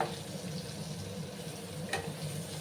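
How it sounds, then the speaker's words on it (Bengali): Ash gourd pieces frying and being stirred in a pan, a steady low sizzle with soft scraping and one brief clatter of the spoon, close and moderately quiet. "আর একটু সময় লাগবে আমি এগুলোকে ভেজে নেব। আবার ভালো করে আমি নাড়াচাড়া করে দিলাম।"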